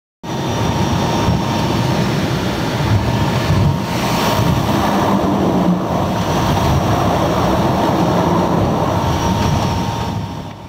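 An aircraft landing in Vancouver gives a loud, steady broadband roar of engine and rushing air, heard from inside and close, continuous for the whole stretch with slight swells and no voices.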